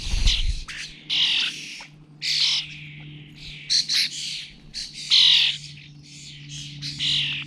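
Harsh, hissing begging calls from starling chicks in a garden come in repeated bursts, loud and close, with short pauses between them and a low hum beneath.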